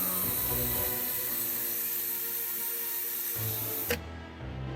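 A handheld power drill bores and carves through a pumpkin's rind and flesh, a steady dense whir grinding on for several seconds before it cuts off, followed by a brief clunk and quieter handling.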